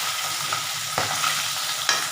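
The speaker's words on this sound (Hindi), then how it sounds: "सारे फिश के पीसेस को मैं फ्लिप करके टर्न कर दे रही हूँ, जैसे कि ये फ्रॉम बोथ द साइड अच्छे से क्रिस्पी तरीके से ये फ्राई हो जाए" Fish pieces fry crispy in hot oil in a pan for a mustard fish curry, a loud, steady sizzle with a couple of brief bumps as pieces are turned.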